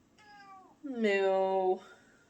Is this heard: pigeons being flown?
no